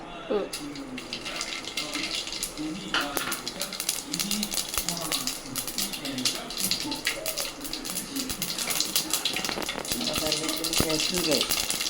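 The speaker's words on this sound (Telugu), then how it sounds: "ముందుగా మనం వేసుకొని ఇక ఆవాలు వేయాలి. ఆవాలు, జీలకర్ర," Mustard seeds and cumin fry in hot oil for a Nellore-style fish curry with brinjal and raw mango, a close, continuous sizzle crackling with popping seeds while a person talks over it.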